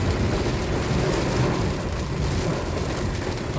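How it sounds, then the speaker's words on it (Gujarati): Steady first-of-season rain patters down on surfaces during a drive, a constant hiss of drops with a low rumble beneath. "अभी छाटे गिर रहे हैं"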